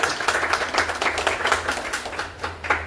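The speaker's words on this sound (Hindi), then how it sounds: "चलो, एक जोरदार ताली होनी चाहिए आज के।" Audience at a weekly business meeting clapping, a close, lively burst of hand claps with an uneven, pulsing rhythm that swells and fades over a few seconds.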